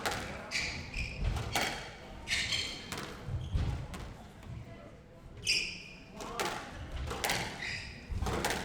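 Squash ball struck during a professional PSA Challenger match in Auckland, with a series of sharp, hollow thuds and taps off racket and walls in an irregular rally rhythm, heard alongside commentary and crowd murmur.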